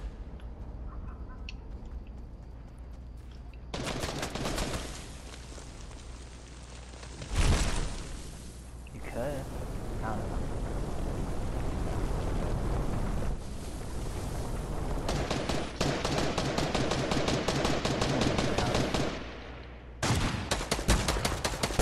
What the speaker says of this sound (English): Someone just got shot.